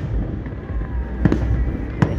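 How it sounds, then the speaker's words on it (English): Bangs from a fireworks display at Runcorn/Widnes ring out loud against a steady crackling rumble as rockets and flares burst overhead, with two sharper reports standing out near the end. "There's like flares and then they release into rockets."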